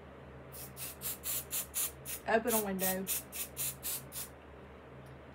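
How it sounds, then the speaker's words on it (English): Aerosol adhesive spray hisses onto quilt fabric in a series of short, evenly spaced bursts, about a dozen quick puffs, with someone speaking briefly midway through. "I'm literally barely spraying it"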